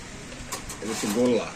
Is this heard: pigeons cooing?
yes